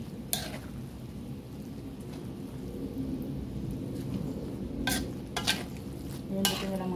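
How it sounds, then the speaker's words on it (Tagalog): Greens such as pechay and other vegetables fry in a pan for a pancit canton and sotanghon stir-fry, giving a steady close sizzle with a few sharper scraping stirs near the end; no talking. "Haluin lang natin para maluto ang ating gulay."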